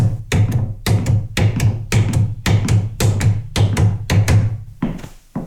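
Boogie-woogie piano with downbeat and offbeat played together, a steady syncopated chord pattern of repeated percussive strikes over a sustained low bass, close and loud with no voices.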